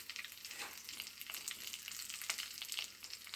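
Ingredients for a radish curry fry in a pan with a soft, steady sizzling hiss and faint crackles, quiet and continuous.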